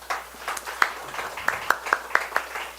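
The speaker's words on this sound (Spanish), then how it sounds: "Dele un fuerte aplauso al Señor" A congregation applauds during a Spanish-language Bible study, with sharp individual hand claps ringing out irregularly over a softer spread of clapping for a few seconds.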